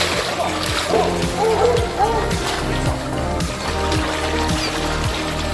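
A rescuer wades through knee-deep floodwater to reach trapped dogs, with constant close splashing and sloshing throughout, joined by a steady low hum and faint voices in the background.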